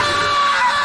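A blood-curdling scream from a cartoon character in the original Ben 10 show, loud, sustained, and shrill, filling the whole moment without pause.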